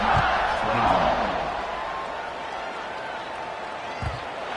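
A football stadium crowd buzzing after a score in a college game featuring Ole Miss, a loud, steady roar of massed voices with scattered shouts, swelling early and then settling into a sustained din.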